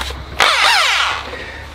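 An electric drill used to spin over a Solex moped engine bursts into a rising whir and holds for about a second before fading.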